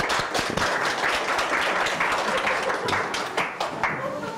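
An audience at a Korean poetry concert claps steadily for the performer's mother, a dense, continuous round of applause that holds at an even level throughout.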